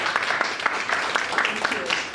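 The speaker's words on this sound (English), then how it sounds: "I think our moderator needs a big round of applause" Brief, moderate applause from a conference audience at a Geneva peace event, clapping for the panel moderator, with scattered claps and some background murmur.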